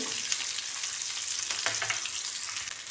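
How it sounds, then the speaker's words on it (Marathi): Sliced onion sautéing in a pan for a leftover-chapati breakfast: a continuous soft hiss and crackle of frying oil, with a few louder pops and stirring scrapes, no voices. "कांदा व्यवस्थित परतून घेऊ."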